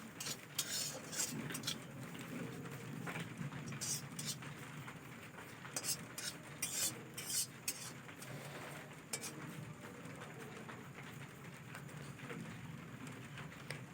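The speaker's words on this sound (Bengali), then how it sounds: "ওই তেলেতে দুটো কারি পাতা দিয়ে দিলাম কারি পাতাটা ভালো করে ভেজে নিতে হবে" Curry leaves fry in hot oil in a pan while being stirred, giving a steady crackling sizzle broken by frequent sharp clinks and scrapes of a utensil against the pan, close up and with no talking.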